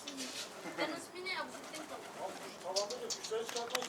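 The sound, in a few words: bird calling near a coop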